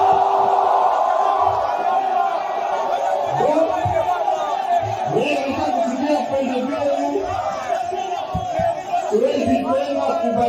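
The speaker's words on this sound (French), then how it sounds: "c'est une foule en liesse qui l'a accueilli au rythme des chants et danses à son honneur" Jubilant crowd at Kindu airport singing and dancing, loud massed voices with chanted melodic lines, shouts and whoops rising and falling continuously, close and dense throughout.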